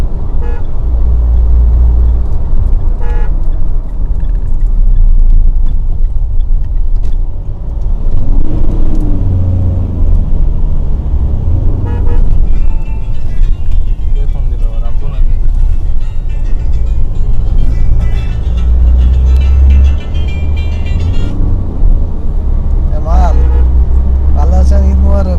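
A Mitsubishi Sportero L200 with a 4100cc diesel engine drives along, its low engine and road rumble steady and loud throughout, with occasional horn toots from traffic and people talking over it.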